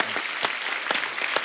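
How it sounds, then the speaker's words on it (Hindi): Studio audience at a Hindi comedy talk show claps steadily in a brief, dense burst of applause with no speech over it. "इनके लिए जोरदार तालियां हो जाए एक बार।"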